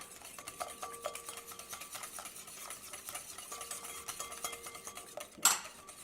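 Whisking vegetable oil into cornbread batter in a bowl, a quiet, close, steady run of light clinking and scraping strokes, ending in one sharper knock.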